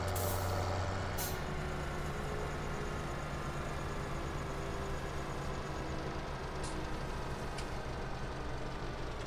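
A semi truck tractor in a console farming-style video game rumbles steadily with a low engine drone, while sharp air-brake hisses burst near the start and faint reversing beeps sound in the background.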